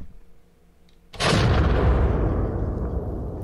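A loud explosion detonates in the game Within Skerry, bursting suddenly out of near silence into a broad roaring blast that keeps rumbling heavily to the end.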